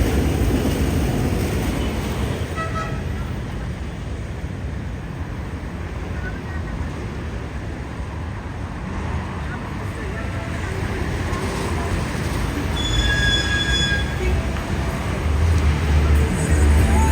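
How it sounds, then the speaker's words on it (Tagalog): Traffic roars steadily along Pedro Gil Street in Manila as an LRT light rail train passes, with faint high squeals from its wheels rising briefly near the start and again toward the end over the constant road noise. "Ingay ng LRT."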